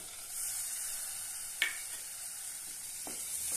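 Whole masoor lentils sautéing in a pan give a steady, faint hiss with a single sharp scrape of a spoon partway through and a softer stir near the end, close and without talk.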